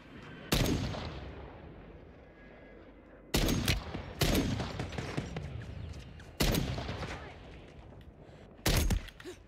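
Five separate loud bursts of gunfire in Call of Duty Warzone Resurgence crack out at irregular intervals, each a sharp report with a short decaying tail, separated by quieter gaps of game ambience.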